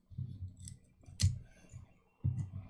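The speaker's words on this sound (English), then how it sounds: "I'm going to line up my scissors at the end" Scissors snip through rubber band material close up, a few quiet crunching cuts with one sharper click between them.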